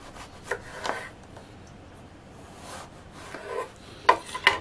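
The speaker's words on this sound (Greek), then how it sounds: "θα κόψω τις 2 άκριες και κόβω σε λουρίδες." A knife cutting food into strips of about half a centimetre after the two ends are trimmed, with soft scraping strokes and a few light taps on a board, quiet and close.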